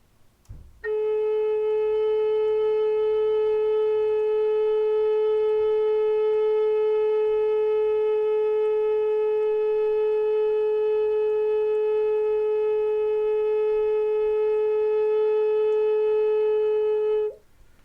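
A flute holds one steady, sustained long tone for about seventeen seconds at even loudness, played alone as a practice exercise, with no talk.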